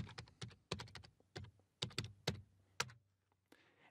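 Bursts of computer keyboard typing, a quick run of close, crisp key clacks with uneven rhythm and short pauses, then a few slower taps, with no talking.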